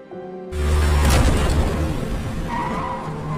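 A car skids as it rams into a man in a film scene. A sudden loud burst of tire skid and engine roar cuts in after a brief quiet start, then stays strong and rough until the end, with no voices.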